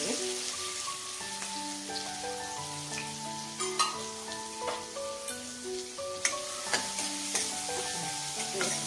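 Curry leaves and chilli powder sizzle in hot oil for a cumin and pepper potato bhaji, a soft continuous crackle with occasional sharper pops, heard close beneath quiet background music.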